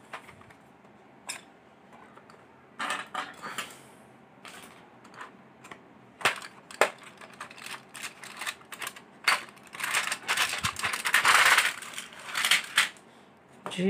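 Crinkling and tearing of a Desire Gold tablet box being opened, close and irregular, with sharp paper and plastic rustles, snaps and clicks that grow busier and louder toward the end; no one speaks.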